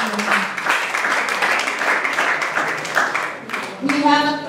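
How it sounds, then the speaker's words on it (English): Graduation ceremony audience claps in a moderate, continuous round of applause, with a voice speaking over it near the end. "A round of applause for him."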